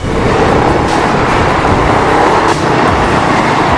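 Dense road traffic roars loud and close during a ride on a Yamaha NMAX 155 scooter, a continuous rumble of engines and wind noise with no clear breaks.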